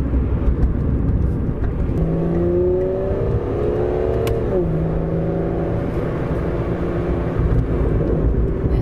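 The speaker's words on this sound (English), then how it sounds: "pretend to be an Aston Martin driver, I suppose just go for a cruise" A 2017 Aston Martin Vanquish S cruises along, its engine a loud, steady drone heard from inside the car, with the pitch rising and easing through a gear change partway through.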